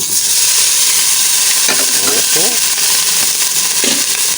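Loud, constant sizzling of chicken frying in a hot pan on a used-oil stove, close by, with brief spoken words partly heard over it.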